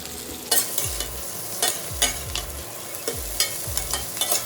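Tender vegetable stalks frying with turmeric and salt in a pan, steady sizzling broken by repeated scraping stirs with a spatula, close and fairly loud with no voices.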